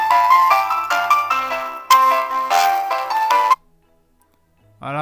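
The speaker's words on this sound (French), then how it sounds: "mon smartphone a commencé à sonner" A smartphone rings out with a loud, looping melodic ringtone close by, set off remotely through Google Find My Device, then cuts off abruptly before a brief tone returns at the end.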